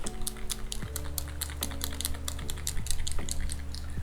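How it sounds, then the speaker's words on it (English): Close, crisp clicking of Nintendo Switch Joy-Con buttons, arrow keys and face buttons, in quick irregular bursts of taps over a steady low background hum. "And now I'm clicking the buttons"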